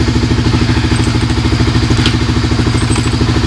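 A motorcycle engine runs loud and close while being ridden, its rapid, regular firing pulses forming a throbbing, clattery rumble that holds steady throughout.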